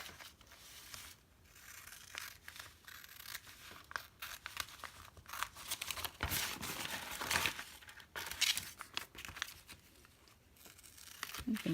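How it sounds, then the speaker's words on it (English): Scissors cut out a square of handmade vintage quilt-pattern paper washi tape, giving quiet crinkling and snipping with scattered rustles, close and fairly faint, no talk. "I will just cut this out real quick."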